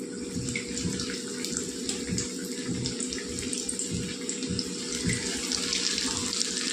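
Marinated chicken leg pieces fry in well-heated oil, giving a dense, continuous sizzle and crackle, close and steady with no talking.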